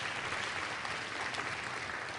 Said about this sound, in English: let's one more round of applause for Hank Smith